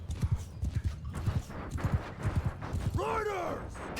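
Cavalry horses in Mount & Blade II: Bannerlord clop rapidly over the ground in a dense rhythmic patter, and a horse's loud whinny rises near the end of the run.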